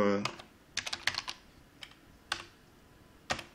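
Several keystrokes on a computer keyboard as text is typed, with quick bursts of clicks and short pauses between them. The clicks are close but soft.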